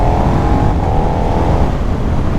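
A KTM 1290 Super Duke R (2023) motorcycle engine runs steadily and loud while being ridden on country roads, a continuous close rumble with no talking.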